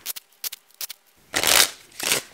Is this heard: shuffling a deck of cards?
yes